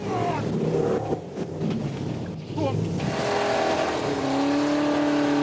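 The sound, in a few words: scrap-built vehicle with V8 engines revving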